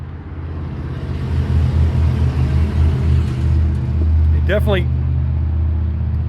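Continuous low rumble of traffic from a major highway about 200 feet away, steady and fairly loud throughout, with a nearby vehicle passing near the end, under occasional talk outdoors.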